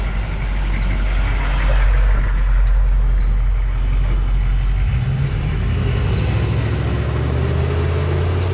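A Humvee M998 military vehicle driving, a loud continuous engine drone with a low rumble that shifts pitch partway through as it changes speed.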